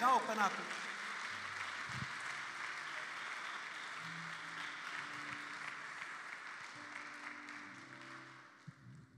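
A church congregation in a French-language service claps and cheers for the Lord, a steady broadband wash of applause that stays loud and continuous throughout, with scattered voices mixed in.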